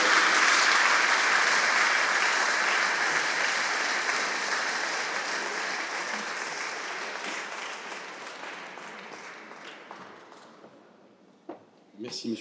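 An audience at an inauguration ceremony at an aeronautics museum applauds: dense, sustained applause that slowly thins and fades over several seconds, ending in a few scattered claps and knocks.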